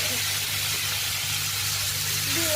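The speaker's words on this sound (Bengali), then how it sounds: "এবার সর্ষেটা ফাটা হয়ে গেলে প্রথমে দিয়ে দেবো টমেটোগুলো কেটে রাখা" Chopped tomatoes and green chilies sizzle and hiss steadily in hot oil with popped mustard seeds, a constant close frying sound with no one talking.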